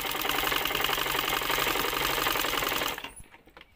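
A sewing machine stitches through folded cloth for a dress in a steady, loud, fast run of needle strokes, then slows and stops near the end, leaving a brief quiet tail.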